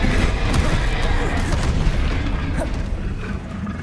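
Confringo blasting spell in the Hogwarts Legacy video game, a loud rumbling explosive boom with dense crackling noise that fills the whole stretch and slowly fades, with a voice calling out spells over it.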